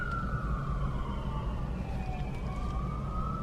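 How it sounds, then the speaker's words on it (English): A siren wails steadily in the distance, its pitch sliding up and down over a constant low rumble of traffic. "Please hold for siren."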